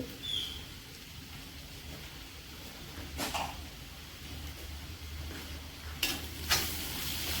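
Meat sizzling steadily in a pan with turmeric, garam masala and black pepper, stirred now and then, with a few louder scraping clatters near the end and no talk.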